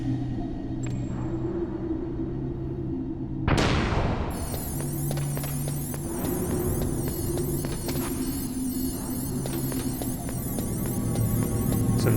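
Elevator in Metal Gear Solid, a steady low mechanical hum and throb running throughout, broken early by a sudden loud boom-like burst before the drone resumes, with no talking.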